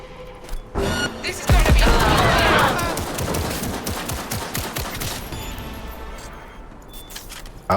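Rapid pistol shots in the video game Cyberpunk 2077, a quick volley of sharp cracks close up followed by a lingering noisy tail of debris and echoes.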